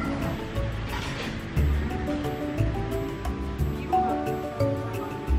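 Sea waves wash onto a beach in Thailand in a steady, moderately loud rush of surf, with faint background tones and no talking.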